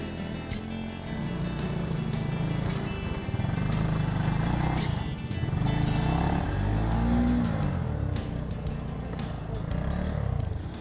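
Several motorcycle engines drone and rev nearby on a muddy road, rising and falling as they churn along slowly in a queue, with a rough, muddy rumble throughout.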